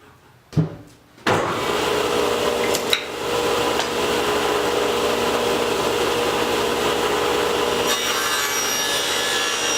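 A table saw cuts a groove into a wooden Langstroth hive frame bottom bar: after a few short knocks, the blade bites in and runs as a steady, loud, sustained whine with no talking.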